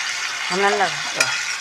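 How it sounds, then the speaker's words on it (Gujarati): Manchurian balls drop into hot oil, which bursts into a close, steady bubbling sizzle with a brief clatter near the end. "તો ગોળી નાખી દીધી જોઈ શકો મિત્રો"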